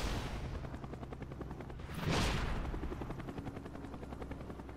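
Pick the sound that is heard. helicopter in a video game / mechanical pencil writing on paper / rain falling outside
helicopter in a video game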